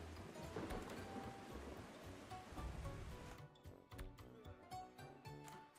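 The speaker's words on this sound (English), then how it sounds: "and now it's raining." Rain falls in the survival video game ARK: Survival Ascended on the Astraeos map, a steady broadband hiss with scattered soft taps and clicks.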